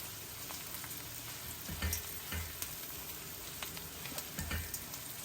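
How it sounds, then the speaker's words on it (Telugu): Turmeric frying in hot oil with onions in a pan, a soft, steady sizzle and crackle throughout, with a few low knocks of stirring now and then. "కొద్దిగా పసుపు వేసి కొంచెం వేగనివ్వాలి ఆ పసుపు పచ్చి వాసన అలా నూనెలో వేగితే బాగుంటుంది"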